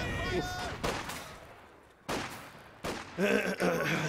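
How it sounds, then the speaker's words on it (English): A rifle grenade fires during a Company of Heroes 2 battle, a few sharp, loud gunfire bursts and thuds separated by short gaps, set against background battle noise and game tones. "Rifle grenade!"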